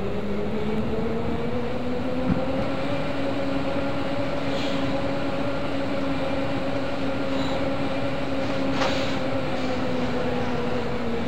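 A Berlin U-Bahn train in a train simulator game rolls over a switch with a steady, loud rumble and rising then settling motor whine, with a faint click or two as the wheels cross the points.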